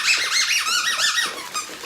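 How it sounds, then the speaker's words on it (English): Squeaky dog toy from a BarkBox squeezed repeatedly by hand, a run of loud, close, rubbery pitch-bending squeals in quick succession with no talking. "Oh, you can squeak it, huh?"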